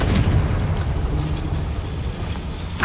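A Confringo fire spell exploding in Hogwarts Legacy, a dense rumbling boom that fills the whole moment with low roar and fades out, loud and close.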